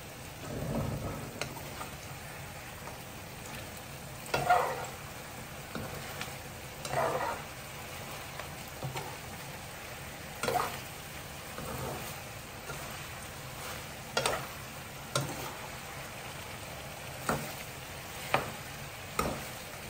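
Chicken cooking in coconut milk is stirred in a pan, producing faint, repeated scraping stirs every couple of seconds over a quiet background.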